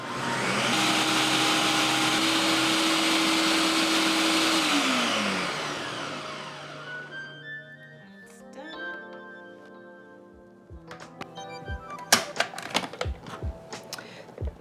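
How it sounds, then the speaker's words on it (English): A Ninja blender on auto mode blends a mango mangonada mixture with a loud, steady whir that winds down midway, followed by clattering taps and knocks as the jar settles, with no voices. "I'm using a Ninja blender."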